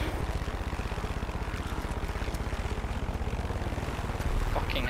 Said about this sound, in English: That was a helicopter over there.